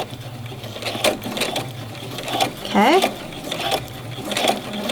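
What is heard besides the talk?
sewing machine stitching a pleat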